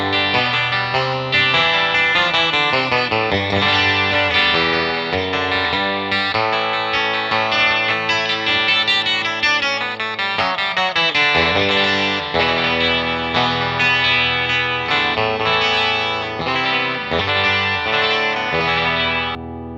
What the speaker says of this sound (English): another run through with some distortion using a ZVEX box of rock, just to give a little overdrive